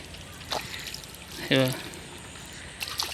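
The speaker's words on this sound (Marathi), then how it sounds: "पिशवीत पाणी भरतं" Water is poured into a bag while fishing, making a few short gurgling splashes with one louder pour in the middle, separated by quiet background noise.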